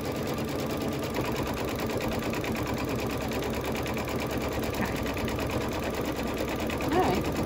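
An embroidery machine stitches down a Halloween quilt block, a steady rapid mechanical whirr with a fine repetitive needle rhythm running continuously at moderate level.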